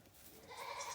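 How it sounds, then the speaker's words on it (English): A visiting goat from a friend's farm gives a short, wavering bleat that rises out of a quiet farmyard background, heard alone and at moderate distance. "we have a goat visiting us from our friend's farm"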